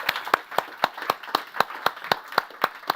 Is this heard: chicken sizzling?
no